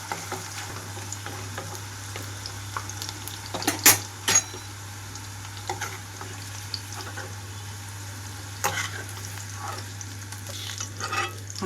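Cauliflower pieces frying in oil in a pan give a steady soft sizzle throughout, broken by a few louder stirs and clinks of utensil against the pan, with no talking.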